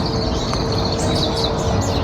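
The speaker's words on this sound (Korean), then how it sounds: "기분 좋은 새소리가 가득한 외진길을 지나면" Birds chirp and tweet over a steady rushing background noise, the calls faint and scattered across a couple of seconds.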